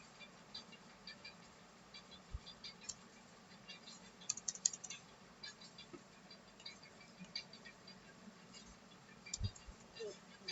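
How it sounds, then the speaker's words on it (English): Computer keyboard typing, a quiet scatter of light clicking keystrokes in irregular bursts, faint and alone. "I will type here"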